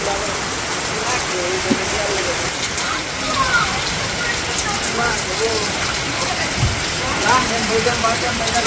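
Heavy rain pours steadily in a village, a dense continuous hiss close by with scattered heavier drips, while voices talk faintly beneath it.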